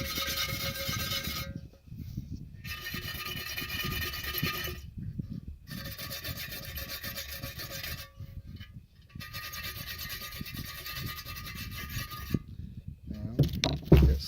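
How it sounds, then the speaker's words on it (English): A small wire brush scrubs the rear differential of a Ford F150 in repeated bursts of harsh scraping, each a couple of seconds long with brief pauses between, close and fairly steady, no talking. "I got a little wire brush here, like that, so I'll scrub it too."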